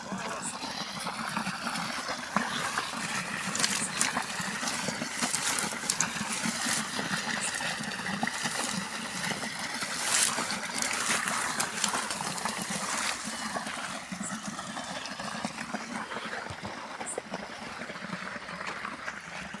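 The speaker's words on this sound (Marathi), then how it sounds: "मस्त पाणी चालू आहे" Water running steadily outdoors near a village, a continuous broadband rush and trickle at moderate distance, with faint talk and occasional knocks over it.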